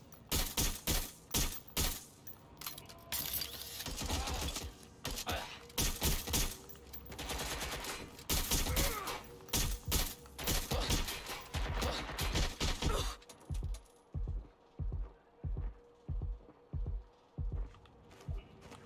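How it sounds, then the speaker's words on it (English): Heavy gunfire in the video game Watch Dogs, with dense bursts of automatic shots in repeated volleys that give way to slower, evenly spaced single shots, loud and close. "I'm taking fire!"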